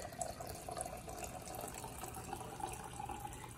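Wine is poured from a bottle into a glass, a soft continuous liquid trickle heard close and alone for a few seconds against a faint background hum.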